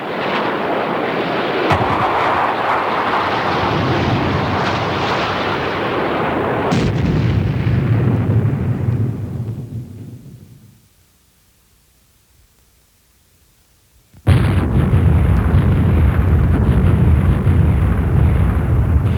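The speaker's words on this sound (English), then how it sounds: "Another anti-tank weapon is the air-to-surface guided missile." An air-to-surface guided anti-tank missile fires and explodes in a loud, roaring broadband blast that fades to near silence, followed by a second sharp, sustained burst of rumbling noise.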